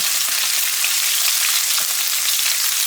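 Garlic fries on a low flame for chicken korma, giving a loud, steady, close-up sizzling hiss that continues without a break and with no voices.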